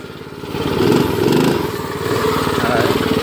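A minibike engine runs with its throttle stuck open by a branch on a wooded trail, a loud, buzzing, high-revving drone that swells and holds close by.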